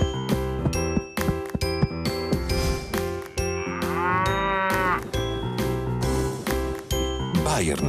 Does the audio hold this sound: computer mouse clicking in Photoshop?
no